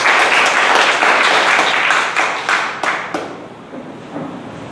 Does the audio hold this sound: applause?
yes